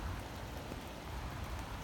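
Steady rain falls over a city park with a love locks sculpture, a soft, even patter and hiss of drops with no voices heard.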